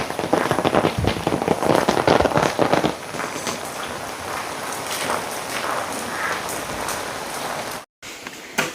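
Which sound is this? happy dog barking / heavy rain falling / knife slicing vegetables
heavy rain falling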